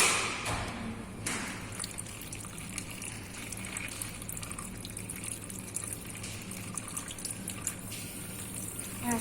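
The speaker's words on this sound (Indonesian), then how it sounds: "Setelah itu, kita bilas lagi menggunakan air mengalir." Running tap water rinses a Gram-stained microscope slide, a continuous splashing hiss with a couple of soft thumps near the start, fairly quiet and steady throughout with no talking.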